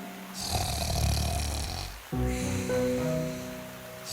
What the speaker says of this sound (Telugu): ఎంత గట్టిగా గురక పెడుతోందంటే చెట్టు ఆకులు కూడా కదులుతున్నాయి